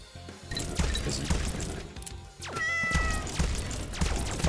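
A cat in the video game Vampire Hunters meows several times, sharp and close, over busy in-game combat noise with impacts and crashes.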